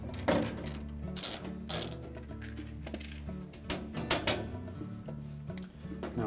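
Quarter-inch hex head screws come out of a Whirlpool washing machine panel, with soft ratcheting clicks, mechanical whirring and a few sharper knocks, faint and close, no talking.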